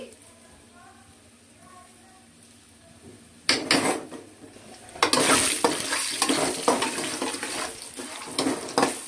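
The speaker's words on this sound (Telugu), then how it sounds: "కరివేపాకు వేసుకొని మంచిగా కలుపుకోండి" Green chillies and curry leaves fry in a pan, with a sudden loud sizzle after a quiet start, followed by continuous crackling and scraping stirring.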